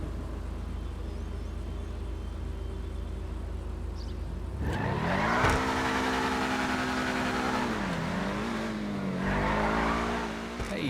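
Benefactor SM722, the Mercedes-Benz SLR Stirling Moss car in the GTA video game, sits quiet for a few seconds, then its engine fires up close and loud, revving up and down in two swelling surges with no talk.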